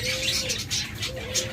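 A dove gives soft, low cooing notes nearby, with faint bird chirps in the background.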